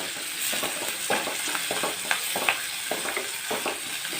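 Tomatoes fry with well-sautéed onions in hot oil for a brinjal kuzhambu, a steady close sizzle broken by frequent stirring scrapes and a few sharp pops, with no talking.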